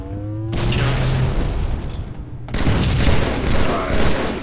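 Gunfire in the video game Halo 3 during a capture-the-flag match on the Citadel map: dense rapid bursts and booming shots fill the clip, with a short pause before a second loud volley.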